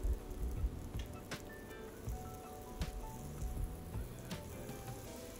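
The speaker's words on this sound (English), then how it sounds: "I'm just going to saute these veggies for about a minute or two" Mixed vegetables sautéing in oil in a saucepan for sweet and sour tofu give a steady close crackle and sizzle, broken by a few clinks of a utensil against the pan, with no talking.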